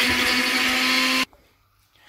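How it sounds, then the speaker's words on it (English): A blender crushing biscuits grinds with a loud, steady motorized whirring for about a second, then cuts off abruptly into near silence. "I've got some of the biscuits in my blender"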